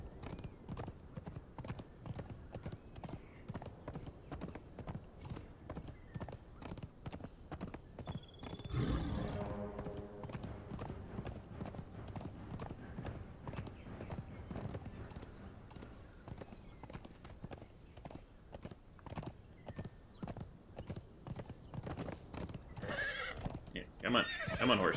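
Rapid rhythmic hoofbeats of a horse galloping in Conan Exiles run steadily throughout, joined by a whinny, with a voice talking over the gameplay.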